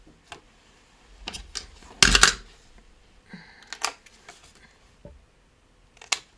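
Scissors snip through paper while an oval shape is cut for a tissue box cover, giving a series of short, crisp close-up cuts and rustles spaced irregularly, one louder burst in the middle, no talking.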